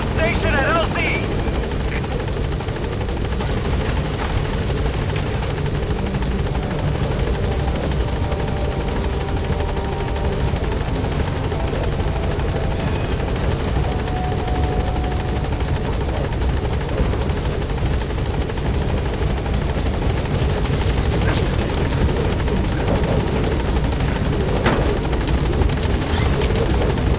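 B-Quad helicopter in Metal Gear Solid V, a steady loud rotor roar and whine held continuously and close, with radio voices speaking over it.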